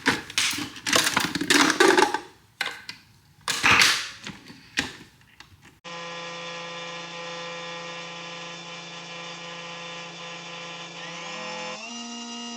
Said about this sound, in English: Then I'll take a double shot of espresso.